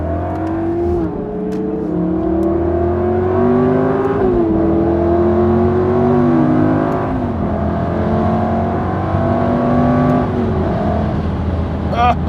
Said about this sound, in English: oh, listen to the engine, you know?